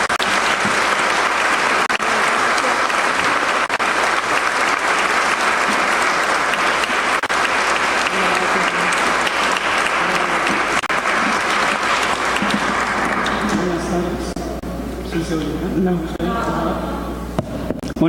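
Sustained audience applause at a book presentation for an author's "Mi negro pasado", dense and steady for about thirteen seconds before fading out as a speaker begins talking.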